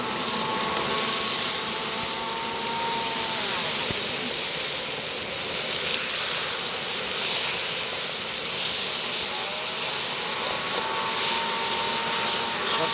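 Tomatoes hit hot oil in a pan for Trichy wedding-style vathal kulambu, giving a loud, steady hiss and sizzle that runs unbroken throughout, close and with no voices.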